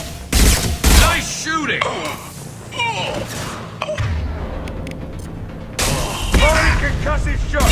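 Gunfire rings out in a Mass Effect 2 firefight played on Insanity difficulty. Loud bursts of shots and booms come in clusters, mixed with in-game voices and effects, with quieter stretches between volleys.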